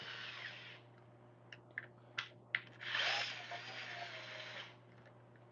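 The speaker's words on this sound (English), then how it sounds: "Screwing into plastic sucks by hand." A power drill drives a screw into plastic, giving a faint whirring burst with short clicks and pauses before one longer whir, against a low steady hum.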